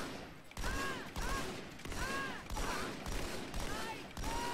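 Rapid bursts of gunfire from Halo 2 on PC, shooting Marines in the campaign, come in several loud clustered volleys with short gaps, layered with game effects and no talk.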